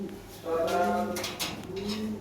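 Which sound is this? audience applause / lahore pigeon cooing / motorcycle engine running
lahore pigeon cooing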